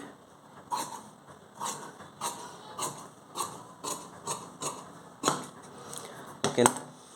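Scissors cut through blouse fabric for the back piece in a regular series of crisp snips, about one every half second, close and moderately loud, with a sharper clack near the end.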